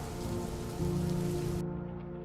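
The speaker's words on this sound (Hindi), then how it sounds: "जल्दी ही बारिश रुक जाएगी।" Heavy rain pours down steadily in a dense, continuous hiss that swells slightly midway, with no voices over it.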